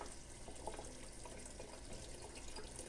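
Running tap water splashes steadily at low volume while passion flower seeds are rubbed clean under the stream, a continuous broadband wash with no talking.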